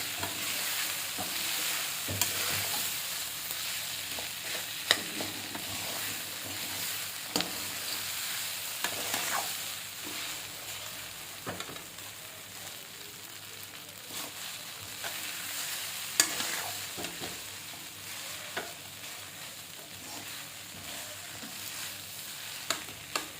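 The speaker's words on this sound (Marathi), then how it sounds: "किती सुंदर आपला हा भात परतवून झालेला आहे" Sheera rice being stirred and sautéed in a pan, a soft continuous sizzle broken by repeated scraping strokes of the spoon, close and fairly quiet with no talking.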